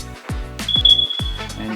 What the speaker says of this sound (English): Makes all this beeping noise